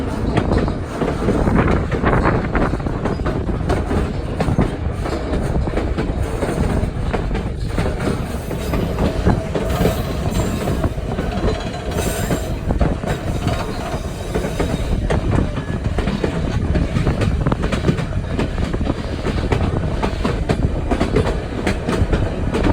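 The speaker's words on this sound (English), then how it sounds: "we boarded our train in Fraser and began our scenic journey on the White" Train rolling along the White Pass and Yukon Railway out of Fraser, a steady loud rumble with clickety-clack wheel noise, occasional squealing and wind buffeting the microphone throughout.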